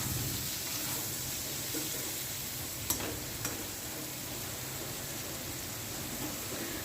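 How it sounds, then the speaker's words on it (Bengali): Eggplant pieces frying in oil in a home kitchen give a steady, close, broadband sizzle with no talk over it, broken by a couple of faint clicks near the middle. "বেগুনগুলো আর একটু ভাজা হবে"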